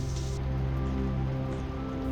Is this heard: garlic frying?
no